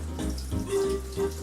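400 ml of 35% whipping cream poured into a bowl in a home kitchen, a brief, steady liquid gurgle with a short second splash near the end.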